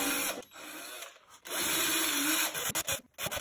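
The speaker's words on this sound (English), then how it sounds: "I'm allowing you to listen to the drilling noise with me" A power drill bores holes into pumpkin armor, with loud whirring bursts that start and stop in uneven spurts, close and alone.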